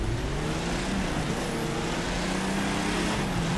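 A DeLorean in the racing game The Crew 2, its engine roaring steadily at high revs during a race with manual gear changes, a loud continuous drone with no talk over it.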